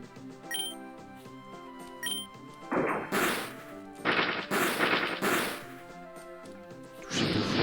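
Video game attack effects for the Pokémon move Nitro Charge in PokéRogue: a run of sharp whacks and crashing bursts with tinkling chimes, layered over looping game music.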